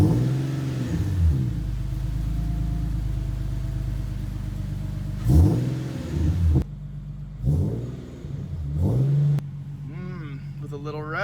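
An Infiniti Q50 engine idling after new parts were installed, a low steady rumble broken by a few short revs that swell and drop back, with someone talking over parts of it.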